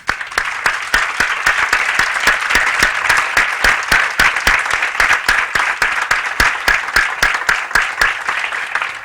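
A crowd claps enthusiastically and continuously for nine seconds, a loud, even wall of many hands with sharp individual claps standing out and no talking.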